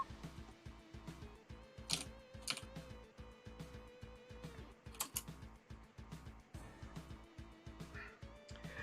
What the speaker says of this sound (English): I see Sigrid typing